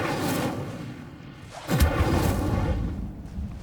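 The Incendio fire spell being cast in Hogwarts Legacy: a sudden, deep whooshing boom erupts partway through over ambient game noise, then rumbles on loudly before easing off.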